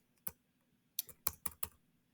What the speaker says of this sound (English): I'm just going to demonstrate these by hitting the letter T just on your keyboard